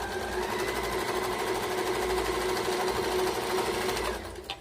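An Usha sewing machine stitching at length setting 2, a fast steady whirring rattle of needle strokes running continuously for about four seconds and then slowing to a stop.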